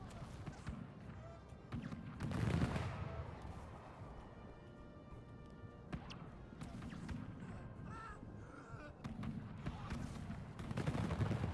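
Musket and cannon gunfire in a Napoleonic war video game, with irregular sharp shots and bursts spread across the scene over a busy battlefield background.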